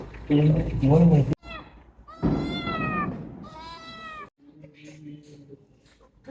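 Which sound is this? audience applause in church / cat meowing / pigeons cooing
cat meowing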